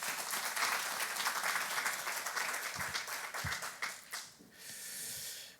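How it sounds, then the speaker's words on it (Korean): A church congregation at a Korean Wednesday worship service claps together in a fairly faint, sustained round of applause that thins out near the end. "목사님 나오실 때 우리 하나님께 다 같이 박수로 영광 돌리겠습니다"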